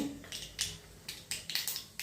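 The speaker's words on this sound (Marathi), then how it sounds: "मोहरी तडतडायला लागली, आता जिरे टाकते" Mustard seeds pop and crackle in hot oil during tempering, sharp irregular snaps coming in quick bursts, fairly close and moderately quiet, with no talk.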